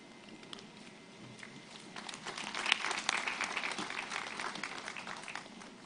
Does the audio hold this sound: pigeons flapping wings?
no